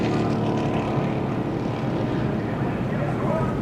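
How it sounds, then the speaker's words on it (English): Track blowers, the jet-style dryers used at a NASCAR race, clear debris from the apron during a caution at the 2005 UAW-GM Quality 500, giving off a loud, steady, continuous roar throughout. "bring the blowers out. They need to blow the apron."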